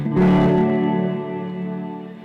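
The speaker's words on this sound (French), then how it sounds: "Quand je mets la reverb, ça fait ça." A sustained tone drenched in heavy reverb, its long echoing tail lingering and slowly fading for a couple of seconds.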